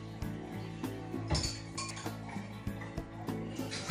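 Dishes being washed, with cutlery and plates clinking and knocking together in a quick, irregular series of sharp, close taps and no talk.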